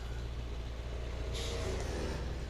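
Euro Truck Simulator 2 traffic trucks rumble with a low, steady engine drone, and a sharp hiss of air brakes releasing cuts in about halfway through.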